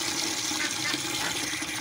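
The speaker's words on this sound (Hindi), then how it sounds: "इसमें हम थोड़ा सा पानी लेते हैं।" Water poured from a tap into a bucket, a steady close gushing splash with a bright hiss that continues unbroken throughout.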